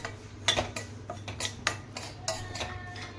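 Spoon scraping and tapping in a pan while semolina is roasted in ghee, repeated close metallic ticks in a loose stirring rhythm over a low steady hum, no talk.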